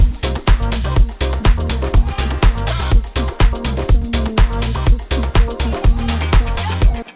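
A disco house drum loop pumps along with steady four-on-the-floor kicks and bright open hi-hats hissing between beats, layered with bass and other samples, loud and continuous with no talking.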